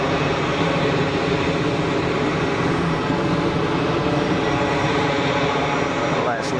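A Delta Boeing 767-300 takes off at Geneva Airport, a loud, steady jet engine roar that holds at full power throughout.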